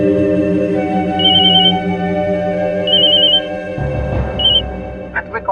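A telephone ringtone sounds in bursts of high repeating beeps over steady dramatic music in an Indian TV crime drama, and the music shifts partway through.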